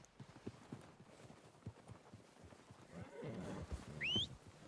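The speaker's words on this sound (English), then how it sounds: "They're coming down with the horses." Hooves clop irregularly as horses draw closer in the video game Red Dead Redemption 2, growing louder and busier, before a sharp whinny rings out near the end.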